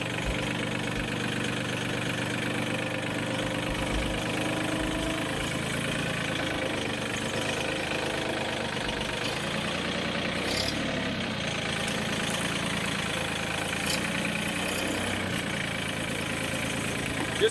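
A backhoe's diesel engine runs steadily while digging and churning up a garden bed, a continuous low idling chug with faint knocking that stays close and even throughout, with no clear pauses.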